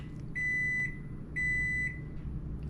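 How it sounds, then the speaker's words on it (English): A microwave oven beeps twice, each a steady high electronic tone lasting about half a second, spaced roughly a second apart over a low kitchen background hum. "sorry, my microwave was going"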